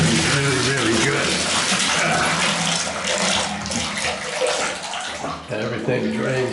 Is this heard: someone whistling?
no